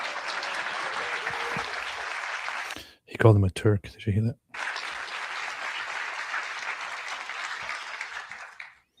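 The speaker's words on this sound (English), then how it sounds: "So let's give Frank a round of applause." An audience applauds Frank Turek at a live event: a loud, sustained crowd clapping that pauses briefly while someone speaks, then resumes at full strength and carries on to the end.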